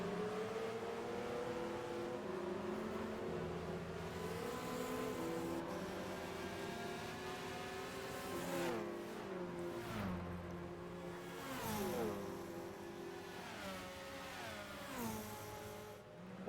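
Racing car engines in Gran Turismo 5 rise and fall in pitch as several cars accelerate and shift gears together, a steady loud drone with sweeping revs through the whole passage.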